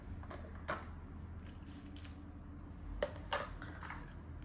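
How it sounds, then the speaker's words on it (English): A few light metallic clicks and taps as surgical scissors are placed on an instrument tray, spaced irregularly, over a steady low hum in a quiet room. "So I'm gonna start by placing my scissors."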